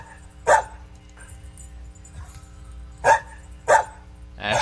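A dog barks in three or four short, separate bursts, spaced apart over a quiet background with a steady hum, sounding at a moderate distance.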